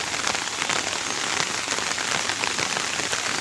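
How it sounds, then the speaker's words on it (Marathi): Heavy rain pours onto a flooded farm field as a dense, loud, continuous hiss and patter of drops, with no voices. "खूप जोराचा पाऊस पडतोय."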